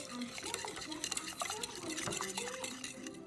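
A sourdough starter mixture being stirred in a bowl: soft wet sloshing and scraping with occasional clinks against the bowl, close up, under faint talk.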